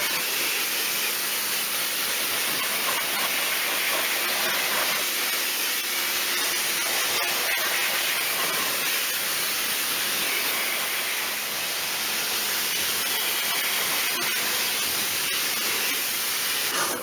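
A Land Rover Discovery Sport wheel gets its final water rinse, a continuous close spray hiss that holds steady and dense from start to finish without any speech.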